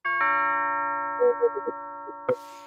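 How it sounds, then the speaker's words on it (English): A household doorbell chimes once, a sustained ding-dong with long ringing tones, followed by a few faint knocks or footsteps and a brief rustle near the end. "the bell is working. The bell is working."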